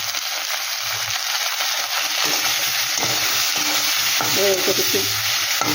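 Mourola fish fried with turmeric and Kashmiri chili powder in a pan, a loud, continuous close-up sizzle with occasional stirring clatter throughout, no voices.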